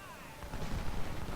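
Distant artillery and infantry gunfire in the Civil War strategy game Ultimate General, a dull continuous rumble of booming shots under a voice.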